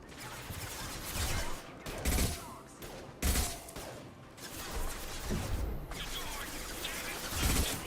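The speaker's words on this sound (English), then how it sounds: "Firing a high impact shot." Heavy gunfire from a high impact shot in a video game, loud repeated blasts and crashing bursts in clusters over several seconds, close and dense.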